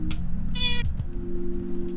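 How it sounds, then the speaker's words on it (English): A cat gives a single clear meow mid-clip over a steady background hum, with faint clicks around it. "I hear a cat."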